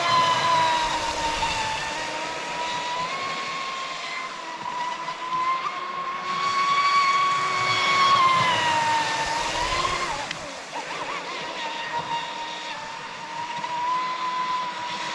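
A high-power electric RC boat motor spins a fast propeller at low throttle, giving a steady, thin whine that drifts gently in pitch, heard from a moderate distance over outdoor background noise.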